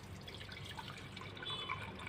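Water, about one and a half glasses, poured into a vessel holding soaked curry leaves and fenugreek seeds for a homemade hair drink, a steady close trickling and splashing that runs throughout without a break.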